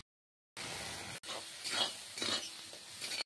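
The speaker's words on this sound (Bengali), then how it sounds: "পেঁয়াজ রসুনটা এরকম ভাজা হলে এর মধ্যে দিয়ে দেবো টমেটো কুচি" Onion and garlic frying with chopped tomato and a ground paste of coriander, cumin, green chili and turmeric, stirred in a pan for chicken kosha. A steady close sizzle with scraping stirs follows a brief silence at the start.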